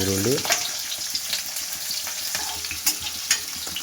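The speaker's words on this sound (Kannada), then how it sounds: "ಈರುಳ್ಳಿ ಗೋಲ್ಡ್ ಕಲರ್ ತಿರುಗೋವರೆಗೂ ಸ್ವಲ್ಪ ನಾವು ಬೇಯಿಸ್ಕೋಬೇಕಾಗ್ತದೆ" Two chopped onions fry for chicken masala, a loud close sizzle that runs throughout with frequent scraping and clattering from stirring, after a brief tonal sound at the very start.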